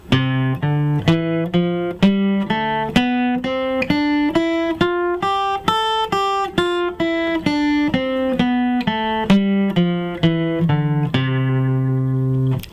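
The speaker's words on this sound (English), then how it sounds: "playing my scales in a smooth and flowing way where each note seems to lead into the next note" A melodic instrument plays a rising then falling scale, its notes flowing smoothly into one another without gaps, steady and clear with no voices.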